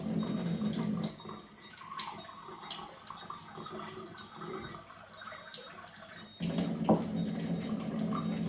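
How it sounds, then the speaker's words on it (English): Strong Kangen water runs from a tap into a cup, a soft steady trickle and splash that changes tone partway through and swells again near the end, fairly quiet and without voices. "So I'm going to fill up a cup with strong Kangen water"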